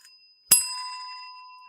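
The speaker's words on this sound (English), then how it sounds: "Gotta get the bell to go." A single bright bicycle-style bell ding rings out once, close and clear, then its metallic tone lingers and slowly fades with no talking over it.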